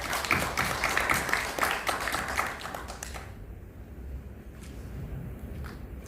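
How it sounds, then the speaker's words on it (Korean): An audience at a Korean archaeology symposium at the Chuncheon National Museum claps to welcome the next speaker, with a busy patter of hands for about three seconds before it thins out and fades into quiet room tone. "박수로 모시겠습니다"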